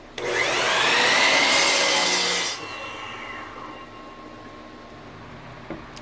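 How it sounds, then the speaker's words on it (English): A power tool shaves the edges of a pallet wood board for a farmhouse table, whining loudly and close for about two seconds with a rising pitch, then winding down into quiet room noise. "I'm just going to come in and shave off the edges a little bit more"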